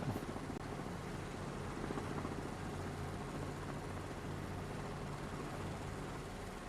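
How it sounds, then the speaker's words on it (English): Helicopter flying in a video game, a steady droning engine and rotor hum that holds evenly throughout with no talking. "this helicopter is difficult to fly from the outside."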